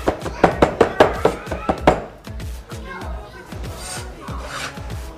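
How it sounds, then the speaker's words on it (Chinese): Garlic cloves are minced with a knife: about eight quick, sharp chopping strikes land in a fast rhythm over two seconds, followed by softer scraping and knocking sounds. "蒜瓣把它剁碎"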